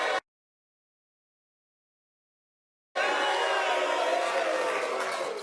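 After a silent gap, a studio crowd of college football fans supporting Alabama and Clemson breaks into loud, sustained cheering and shouting close by.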